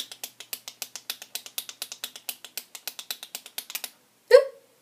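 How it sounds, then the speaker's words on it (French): A new Kiko cosmetic pump dispenser pumped repeatedly: a quick, even series of about two dozen short, crisp plastic clicks, close and clear, followed by a brief louder squirt-like click after a pause. "il faut plusieurs coups de pompe"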